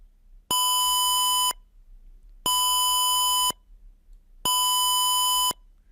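An Arduino-driven buzzer in simulation sounds three loud, steady one-second tones, each separated by a one-second silent pause.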